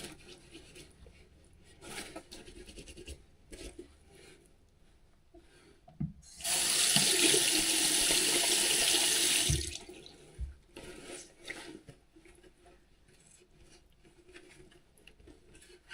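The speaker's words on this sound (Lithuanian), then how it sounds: "Bet dabar ūkiniu muilu praplausiu." A jacket is rinsed with laundry soap under a running tap: several seconds of strong, steady water flow burst in mid-clip, framed by quieter splashing and rubbing.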